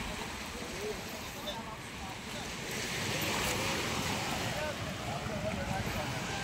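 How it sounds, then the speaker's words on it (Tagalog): Steady roar of surf and wind across the recording, with an arriving fishing boat's engine rumbling low beneath, growing slightly louder midway as if drawing closer, at the Tanza fish terminal. "Ito na yung bagong dating na bangka."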